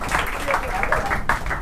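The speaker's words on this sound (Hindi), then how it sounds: "चलो इस गवाही के लिए छोटा तालियां प्रभु के लिए।" Church congregation clapping during a fourth-anniversary service, a brief dense patter of many hands mixed with a voice and room noise.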